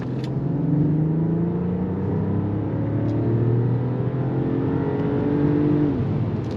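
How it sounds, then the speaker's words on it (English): A 2023 Mercedes-Benz S580e engine revs hard under full throttle in sport mode, its rising tones climbing steadily and smoothly, loud and close with no talk. "now let's switch it back to the sport mode and give it full throttle"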